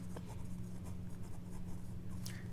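Pen writing an answer to a class 6 math exercise on paper, making a close, steady scratching with a low background hum, and no one talking.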